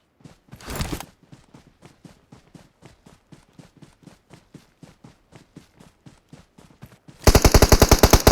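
Gunfire in the mobile battle royale PUBG Mobile. A brief burst is followed by a long, steady run of evenly spaced single shots or light footsteps, then a loud, rapid automatic volley close by at the end.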